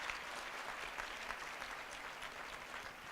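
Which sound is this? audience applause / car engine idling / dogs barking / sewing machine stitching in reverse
audience applause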